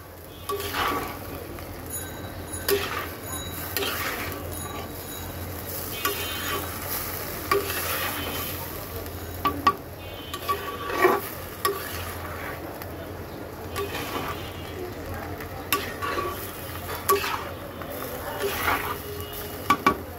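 Banana flower mixed with spices is stirred in a pan, a soft continuous sizzle with regular scraping and tapping strokes of a spoon against the pan, close and faint.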